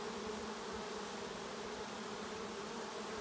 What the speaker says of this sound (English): the swarm is not forming again on the branch up in the tree